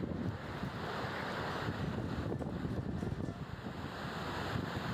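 A steady, loud broadband roar of rushing monsoon floodwater with wind buffeting the microphone, continuous throughout with no voices.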